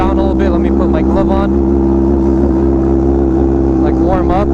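A Honda Fireblade RRR SP motorcycle with a full titanium exhaust idles loudly and steadily at close range, a deep continuous engine drone with a shaky rumble, while a person talks over it.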